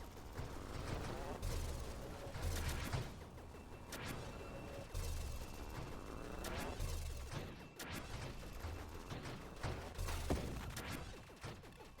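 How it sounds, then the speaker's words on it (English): Rapid machine gun fire in the space shooter Nova Drift, dense bursts of crackling shots with impacts and crashes continuing throughout at moderate loudness. "Take the machine gun."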